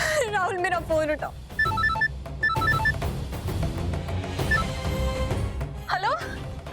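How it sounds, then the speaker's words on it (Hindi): Mobile phone ringtone sounding in an indoor drama scene, short repeated melodic beeps heard beneath a voice and background music. "राहुल मेरा फोन उठाओ।"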